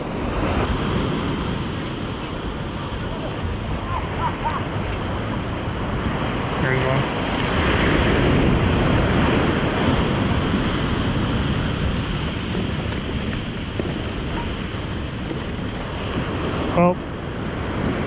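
Ocean waves breaking on the California coast where people body surf, a steady roar of surf with wind noise that swells louder midway through, and a brief sharp knock near the end.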